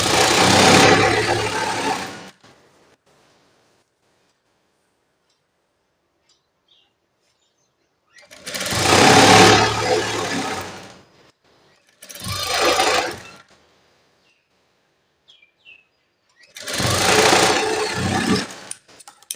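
A sewing machine stitches the back part of a blouse in four separate bursts, each a few seconds long, with silent pauses between them, close up and loud.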